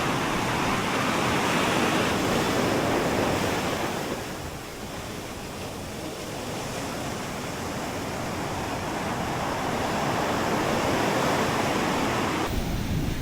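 Rough sea surf pounds the Kerala coast in a loud, steady roar of breaking waves that dips briefly and then swells again, with wind noise and no voices.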